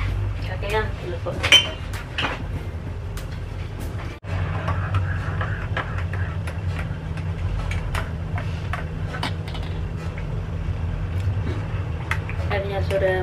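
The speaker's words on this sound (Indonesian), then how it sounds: "kopiku wis tak udek" A metal spoon stirs coffee in a cup, giving a run of light, irregular clinks and taps over a steady low background hum, with some talking in the room.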